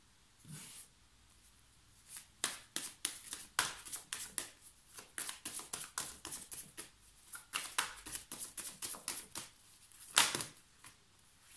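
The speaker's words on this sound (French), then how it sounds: "Je vais tirer une carte d'un autre jeu" Tarot cards drawn from a second deck, heard as a close, quick run of crisp shuffling slaps and riffles in bursts, with short pauses and no talking.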